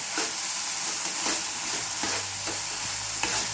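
Chopped tomato frying in a pan for a north Karnataka style black-eyed pea palya, with a steady hiss and sizzle punctuated by repeated scraping stirs, close and fairly loud, with no talk.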